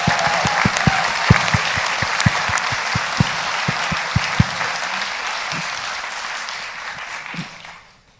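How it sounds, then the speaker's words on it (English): An audience at a Champion of Inclusion award ceremony applauds steadily, with scattered louder individual claps near the front, then the clapping fades to silence after about seven seconds. "give them all the round of applause"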